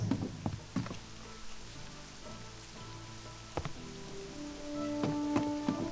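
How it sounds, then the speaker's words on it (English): Rain falling in Theramore in World of Warcraft Classic: a soft steady patter over faint ambient hum, with occasional louder drip-like knocks and a few tonal creaks, quiet and without voices. "It's raining in Theramore."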